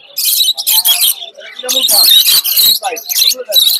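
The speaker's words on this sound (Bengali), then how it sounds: "এগুলো হলো ঘুঘু, ডায়মন্ড ঘুঘু" Birds calling at a pigeon and dove market in Khalishpur, Khulna, where diamond doves are on sale; bright, busy chirps and calls come in bursts across the whole stretch, loud and close, with market chatter mixed in.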